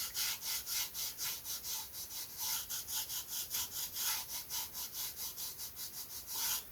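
Sanding a balsa-style wooden glider wing into an aerofoil section, a rapid steady back-and-forth rasping rhythm of close, even strokes continuing throughout without talk.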